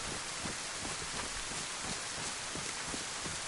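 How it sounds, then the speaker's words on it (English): Steady rain falling outdoors during a duper hunting outing, a constant dense hiss of drops with faint spattering, no voices. "It's just annoying that it's really raining."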